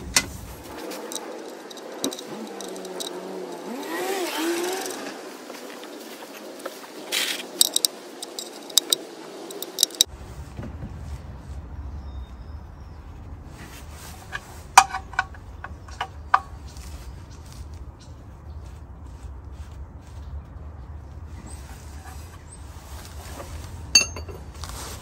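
Tools refit the oil sump plug on an Audi A1 1.4 TFSI during an oil change, producing faint scattered metallic ticks and clicks in a quiet space.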